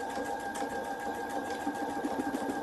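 A sewing machine stitching a button onto a garment, running as a steady close mechanical whir with a continuous hum throughout, no talk over it.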